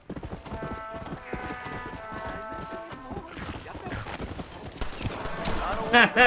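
Rapid rhythmic clip-clop of horse hooves in the Red Dead Redemption: Undead Nightmare video game, close and continuous, with game music and a louder burst of sound near the end.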